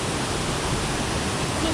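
A waterfall in Arecibo, Puerto Rico, pouring with a dense, even rushing roar that fills the whole moment without a break.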